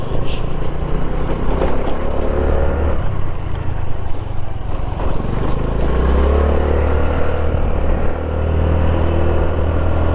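An overheated scooter that is losing pickup runs throughout a solo ride. A loud, close engine drone carries on without a break, and its pitch rises and strains toward the end as the throttle opens.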